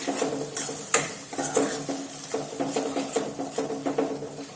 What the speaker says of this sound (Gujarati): આપણે આ બધા મસાલા કાચા જ લીધા છે, તો તેને આપણે સારી રીતે તેલમાં સાતળી લઈશું